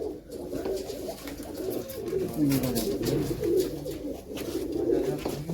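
Pigeons from a fancier's loft of prized racing bloodline coo close by in a steady, overlapping murmur of low throaty calls.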